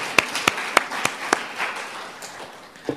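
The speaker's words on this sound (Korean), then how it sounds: "잘하자는 의미로 격려의 박수 한번 주세요." Congregation at a Sunday church service clapping in encouragement: a handful of sharp, separate claps early on, then a softer scattered patter of hands that fades out, fairly close and without speech.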